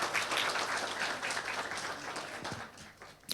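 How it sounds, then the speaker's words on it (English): A conference audience applauds a panel with dense, steady clapping that stays fairly even and then tapers slightly toward the end. "Can we give them a round of applause?"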